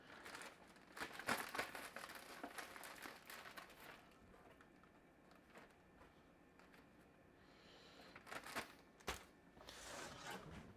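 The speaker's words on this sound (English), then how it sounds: "Get out a plastic bag." Plastic bag crinkling and rustling as it is loaded with stir-fry meat in a home kitchen, with bursts of close crinkles near the start and again toward the end, quieter handling in between.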